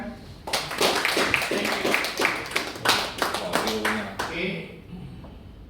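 Audience clapping after a presentation on diesel bunkering, a close, sharp round of individual hand claps that tapers off after about four seconds, with a few spoken words heard over it.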